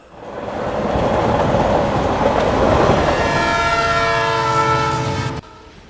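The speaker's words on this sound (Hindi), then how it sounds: "लहरों की आवाज बंद हो गई और ट्रेन की आवाज सुनाई पड़ी।" A train roars past at close range, its horn sounding in long sustained blasts over the rolling clatter of wheels, loud throughout before cutting off abruptly near the end.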